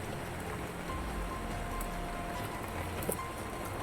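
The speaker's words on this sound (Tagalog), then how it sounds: "Sobrang lakas ng ulan." Heavy rain pours down in a steady, dense hiss that fills the scene evenly, loud and continuous without a break, with no talking heard.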